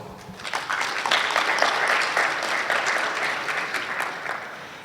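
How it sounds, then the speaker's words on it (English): A conference audience claps steadily for several seconds, a dense, even wash of applause that holds its level throughout. "Let's give a round of applause to the authors."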